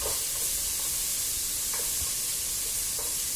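Onions dumped into a pan of hot melted butter sizzle with a steady, close frying hiss, with soft stirring scrapes breaking through now and then.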